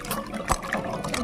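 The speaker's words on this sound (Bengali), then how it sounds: "এটা ধুয়ে নিচ্ছি প্রথম।" Amla (Indian gooseberries) being washed by hand in water: a brief burst of splashing and trickling with a sharp slosh in the middle.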